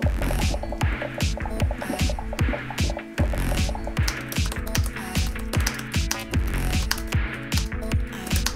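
Fast typing on a Microsoft Surface Touch Cover 2 keyboard, a rapid run of close, even taps with brief pauses, loud and alone with no voice.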